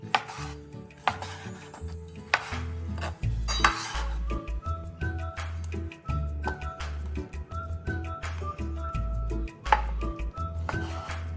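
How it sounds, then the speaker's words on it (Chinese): A knife chops pork into chunks on a board, producing repeated firm thuds in an uneven rhythm along with occasional clinks of utensils, close and fairly loud, with no voices. "轻剁后的猪肉切成块状"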